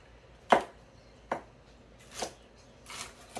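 A knife roughly chops sweet peppers on a cutting board, four separate thuds spaced unevenly over a few seconds, close and fairly quiet, with no talking.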